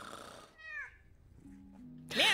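A domestic cat gives a short, clear meow with a falling pitch, fairly close, followed by quiet background sounds and a burst of noise at the end.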